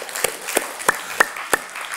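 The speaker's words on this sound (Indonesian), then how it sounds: "Kok gak ada yang kasih tepuk tangan sama Tuhan kita?" A church congregation at a Sunday service claps in an even rhythm, with sharp, regularly spaced claps over a low room background.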